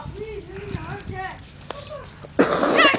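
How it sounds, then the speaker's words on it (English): A dog whimpers in a series of high, thin whines and yips amid children's party chatter, ending in a louder burst of noise. "Rafe, stop being mean to a dog."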